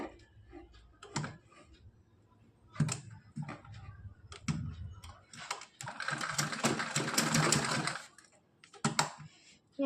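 A sewing machine stitches a festive Kanha ji (Laddu Gopal) dress in bursts, with a loud continuous run of rapid stitching near the middle and shorter runs before and after, plus occasional handling noises and brief quiet gaps.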